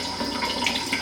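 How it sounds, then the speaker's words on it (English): Water runs steadily from a sink tap, a close, even hiss with no talking over it. "And I'm just going to run the water."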